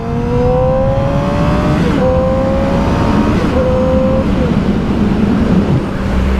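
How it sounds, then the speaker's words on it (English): A Yamaha R6 sport motorcycle is ridden and accelerating, its loud, high engine whine climbing through the gears in rising sweeps over constant wind roar, heard from the rider's position. "God, I love how this bike rides."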